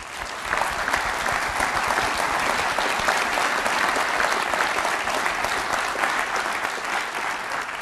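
Steady, dense applause from a large audience honoring health workers who fight neglected tropical diseases, sustained at an even level for several seconds with no talk over it.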